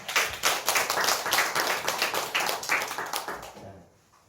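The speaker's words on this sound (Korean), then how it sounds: "우리 함께 박수로 환영하겠습니다" A church congregation at a Sunday service claps to welcome children coming up to sing, with a rhythmic, fairly close round of hand claps that carries on evenly before fading out near the end.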